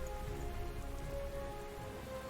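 Steady rain in the war strategy game Panzer Corps 2, a soft continuous patter of drops on a surface, faint and alone with no talk over it.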